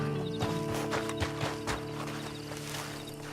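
Horse hooves clip-clopping at a walk in the Red Dead Redemption 2 video game, steady rhythmic thuds over a humming game soundtrack, no voices.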